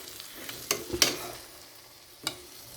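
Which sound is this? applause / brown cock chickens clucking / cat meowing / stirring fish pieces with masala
stirring fish pieces with masala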